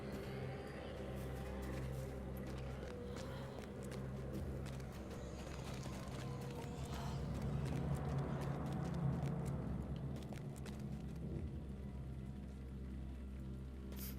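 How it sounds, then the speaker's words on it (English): Horse hooves clip-clop steadily in the Lord of the Rings Online game, a continuous rapid patter at moderate level, with no talking over it. "This is a good horse to get."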